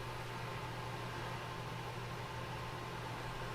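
A WEN air filtration system runs nearby, producing a constant airy whoosh over a low motor hum that never varies.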